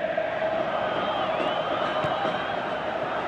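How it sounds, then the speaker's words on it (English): A football stadium crowd reacts with a broad, steady roar and murmur, loud and sustained, with faint whistles or calls rising above the mass of voices. "you can hear how the crowd are reacting to this too"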